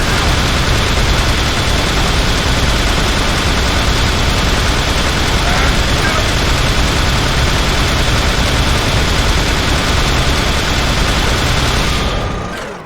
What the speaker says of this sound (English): Your portable six-barreled twin assembly anti-aircraft cannon.